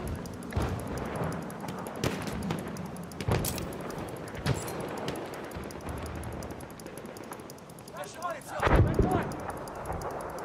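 Scattered gunshots and booming blasts pop through a noisy battle soundscape, some near and sharp, with voices talking over the action.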